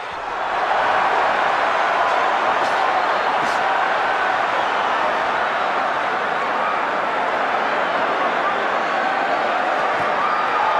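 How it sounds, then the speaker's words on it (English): A dense, steady roar from a boxing arena crowd in Indianapolis, cheering continuously with no pauses, loud and filling the space. "and the crowd responds to him."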